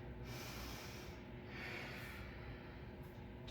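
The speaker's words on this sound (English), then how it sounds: "And breathe." Heavy, steady breathing fills the whole stretch during a weightlifting set for biceps and back, a continuous close airy rush with snort-like exhales and no talking.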